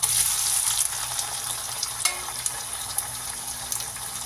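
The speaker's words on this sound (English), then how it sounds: "Now let us add the marinated prawns and the other spices." Marinated prawns and spices sizzle in a hot pan over browned onions for shrimp biryani, a loud, steady frying hiss with occasional sharper crackles and stirring clicks.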